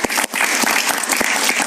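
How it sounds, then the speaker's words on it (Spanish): Studio audience applause on a talk show, a dense, loud wash of clapping hands that holds steady throughout with no voices over it. "Aplausos para Pedro, por favor."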